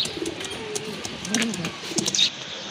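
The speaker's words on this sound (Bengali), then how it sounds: "মাশাল্লাহ ইন্ডিয়ান গোল্লা কবুতর, খুবই সুন্দর" Indian Golla pigeons cooing close by in repeated low murmurs, mixed with brief chirps and some faint talk.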